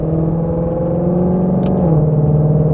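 A 2021 Ford Mustang Shelby GT500 with a 760 hp engine holds a loud, steady close-up engine drone, then the pitch shifts down as the paddle shifter drops several gears, with a brief click just before.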